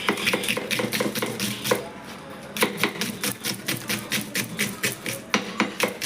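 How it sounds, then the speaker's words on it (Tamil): Rapid knife chops through onions knock against a board in quick bursts, pausing briefly before resuming a steady rhythm, close and clear. "ஆனியனை நறுக்கலாம்"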